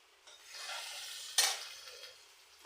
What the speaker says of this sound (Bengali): এদিকে ডালটা বাগার দিয়ে দিছি, এই যে ডালটা পেঁপে ডাল অনেক সুন্দর।